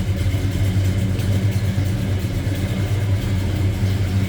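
A 1969 Chevrolet Nova's 396 engine with a mild cam idles close by, giving off a loud, steady low rumble with a faint, even lope all the way through.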